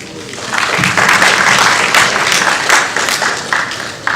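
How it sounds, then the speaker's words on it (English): A conference audience applauds panelists at an agribusiness event, steady dense clapping filling the room for about four seconds, fairly loud and continuous with no talk over it. "So can you please give a round of applause to the panelists?"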